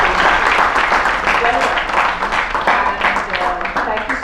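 An audience at a panel session of an HR conclave applauds, dense sustained clapping from a large crowd at strong volume, steady throughout with a few voices mixed in.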